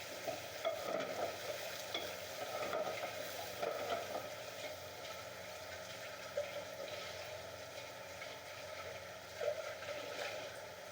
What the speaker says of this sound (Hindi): प्याज को भी हल्का सा स्टर फ्राई कर लेंगे।